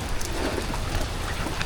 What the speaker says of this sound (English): But while it's raining